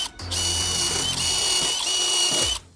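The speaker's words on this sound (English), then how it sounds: "you can sometimes get away without drilling pilot holes" A power drill whines at high speed for a couple of seconds, its pitch dipping briefly as it bites into wood drilling a pilot hole, then winds down and stops.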